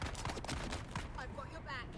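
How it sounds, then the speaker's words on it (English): Gunfire aimed at the player in the video game Dune Awakening, a quick cluster of sharp loud shots in the first second followed by fainter ringing tones, with a voice speaking over it. "Who just shot at me?"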